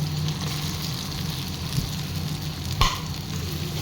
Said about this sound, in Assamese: অকণ ৰঙা কৰি ভাজি ল'ম